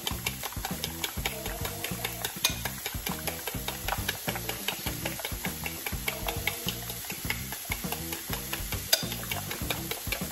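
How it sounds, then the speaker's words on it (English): Fork whisking eggs in a bowl for a scramble, a steady fast rhythm of light clicking taps against the bowl, close and continuous with no talk. "I'm gonna whisk with a fork."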